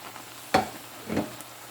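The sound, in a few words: greens sizzling as they are added to a frying pan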